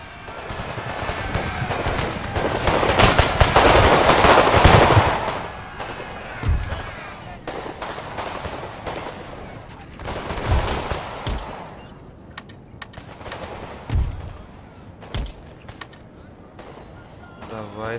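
Musket volleys and cannon fire on a battlefield in Empire: Total War: a heavy crackling fusillade, then scattered booming shots at irregular intervals, some near and some distant, with someone talking throughout.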